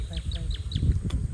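White birds calling over a rice field on a Philippine farm: a quick series of four or five thin, high chirps in an even rhythm, near and clear above low rustling and a faint murmur of background noise.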